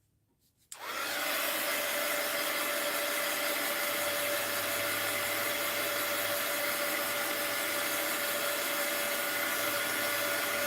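A heat tool or dryer switches on after a brief quiet moment and then blows as a loud, steady, close roar for the rest of the clip while drying paint on an art journal page.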